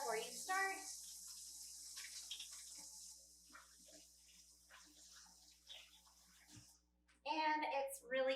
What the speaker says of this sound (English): I'm going to go ahead and wash my hands one more time